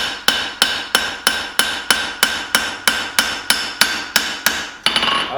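Hammer striking a hot knife blade while forging its bevel, about fifteen sharp ringing blows in a steady even rhythm, loud and close with no talking.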